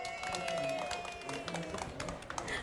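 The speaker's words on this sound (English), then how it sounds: "Give her a round of applause." Audience applause in a conference session at a COP30 climate event hub, a steady patter of many hands clapping at moderate level for a few seconds, with no voices over it.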